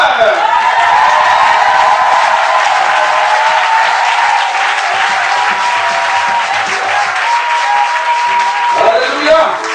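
A church congregation at a vigil applauds and acclaims the Lord, sustained loud clapping with cheering voices and a sung or shouted tone running through it, tapering slightly near the end.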